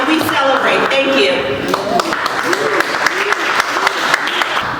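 An audience applauds at a Black History Month event marking a museum donation, with steady clapping ringing through the room while voices talk and call out over it.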